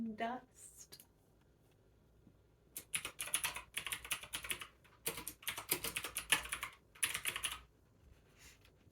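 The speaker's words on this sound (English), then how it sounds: "Yes, I'm a slow typer." Bursts of typing on a computer keyboard, quick irregular key clicks in several runs separated by short pauses, close and crisp.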